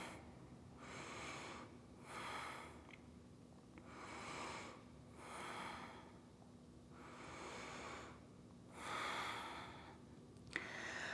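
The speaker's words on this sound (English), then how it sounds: "5 breaths here. And focus on using the core to twist deeper, squeezing navel in each time you exhale." Deep, slow, audible breaths in a steady rhythm during a yoga twist in a strong vinyasa flow, about five long breath cycles of whooshing inhales and exhales, close and alone with no talking.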